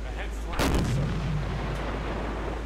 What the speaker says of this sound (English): Small arms, machine gun fire, coming at us.